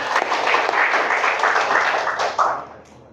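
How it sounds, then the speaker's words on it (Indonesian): An audience at a doctoral dissertation promotion ceremony claps steadily and fairly loudly for about three seconds before the applause tapers off. "Boleh tepuk tangan"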